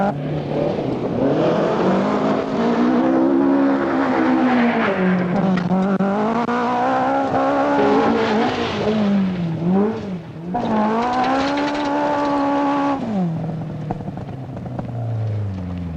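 A 1975 rally car engine revs and climbs through its gears, its pitch rising and falling continuously as it drives hard, loud and close, with no talking.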